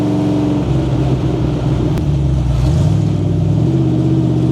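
A 1950s hot rod's engine runs and pulls as the car drives, a loud close droning rumble with shifting pitch and steady revs throughout.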